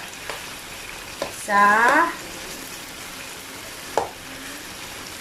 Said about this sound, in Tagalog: Now, dudurugin nyo. Ihahalo nyo siya